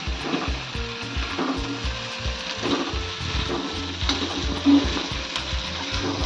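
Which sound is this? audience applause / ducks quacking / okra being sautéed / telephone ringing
okra being sautéed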